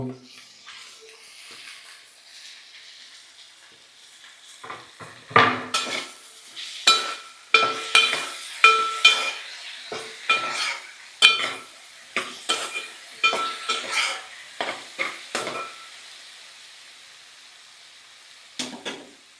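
Okra pieces fry in oil while being stirred, a quiet sizzle at first that gives way to a long run of sharp, rhythmic scraping and clanking strokes of a spoon against the pan.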